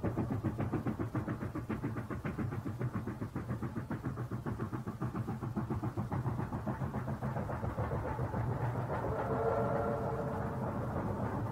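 A train crossing the sandy Yellow River region of northern China rolls past in a steady, close rumble with a regular clattering pulse throughout, and no voices.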